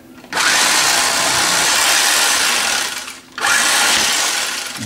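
A knife saws through a loaf of oat bran French bread in two long, loud, rasping strokes split by a short pause, with the crust crackling close up.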